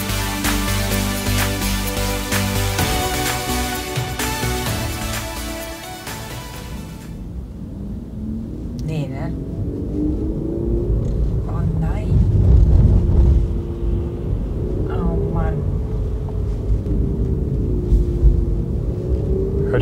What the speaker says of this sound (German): Ich habe jetzt mal den Fahrsound wieder angemacht